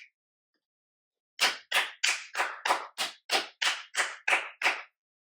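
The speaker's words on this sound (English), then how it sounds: "I'm clapping because when I edit the video, I'm going to see that thing bounce around" Eleven sharp hand claps in an even, brisk rhythm, close and crisp against near silence, made to mark points for video editing.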